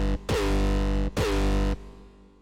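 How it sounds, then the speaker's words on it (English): Serum synth kick preset Anger from the Doomsday pack: two loud, long distorted kicks with pitch-dropping starts and sustained harmonic bodies, the second ending in a fading tail. "Next up, we got drum kick Anger."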